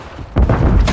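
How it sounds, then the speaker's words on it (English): A stun grenade goes off in Call of Duty: a quiet lead-in, then a sudden loud broadband thump that rings on with dense rumbling noise, a second bright burst arriving near the end. "Throwing a stun grenade!"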